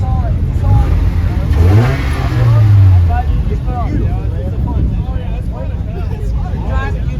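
A turbocharged car with a low-profile, full carbon fiber body kit revs with a loud rising engine note at a busy car meet, heard amid crowd chatter and nearby voices.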